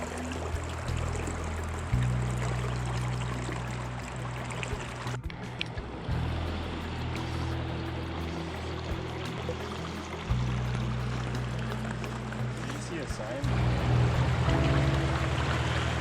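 Montana Creek in Alaska flowing steadily, a broad close rushing wash of creek water that runs continuously, with a few brief low thumps along the way.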